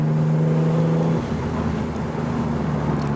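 An RB30-engined R33 Skyline with a turbo, heard close as a loud, steady engine tone that drops sharply in pitch partway through and settles into a lower rumble.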